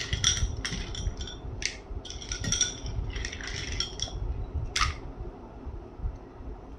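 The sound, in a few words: ice cubes clinking into a container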